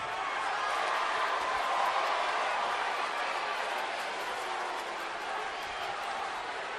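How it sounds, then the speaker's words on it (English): A wrestling arena crowd cheering for CM Punk: a dense, steady roar of many voices that holds at an even level throughout. "Those of you who are cheering me right now"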